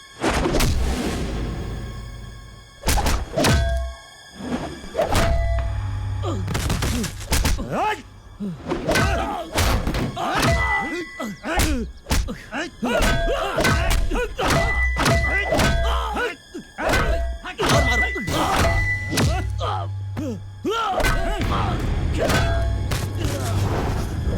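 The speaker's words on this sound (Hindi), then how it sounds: "इसे मार मार के खत्म कर दो" Punches and heavy thuds land in a Hindi-dubbed South Indian action film fight, a rapid run of close, loud thumps and whacks over a dramatic music score, with voices shouting between blows.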